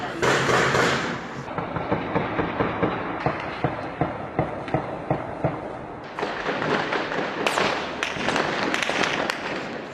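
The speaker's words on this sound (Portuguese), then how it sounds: "o tiroteio recomeçou intenso aqui na Rocinha" Rapid gunfire in a night-time shootout in Rocinha favela, Rio de Janeiro, with repeated sharp bursts and echoing reports cracking loudly across the hillside, coming in dense volleys with brief lulls.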